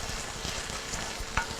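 Garlic sautéing in a pan, with steady close sizzle and a few sharp pops where it spits, one brighter crackle near the end.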